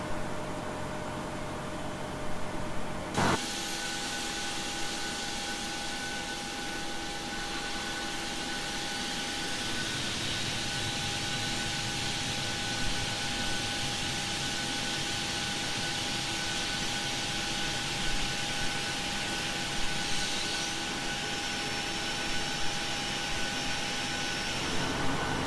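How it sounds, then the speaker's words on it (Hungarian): The left jet engine of a Boeing 737-800 spools up in Flight Simulator X, a steady broadband whine and roar with a sustained tone that starts abruptly and holds for a long stretch. "A bal motort pedig indítom."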